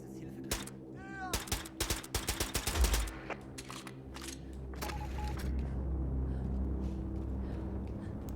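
Gunshots in Wolfenstein II: The New Colossus, a quick series of sharp, fairly faint cracks clustered in the first few seconds, followed by a low steady hum.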